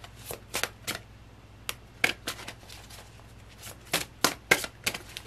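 Tarot cards are shuffled by hand in a series of crisp, close riffling bursts and slaps, irregularly spaced over several seconds with quiet gaps between them.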